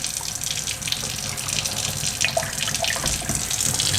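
Water rinsing a brine shrimp net runs steadily from a tap, a continuous close splashing hiss with small shifts as the stream hits the mesh.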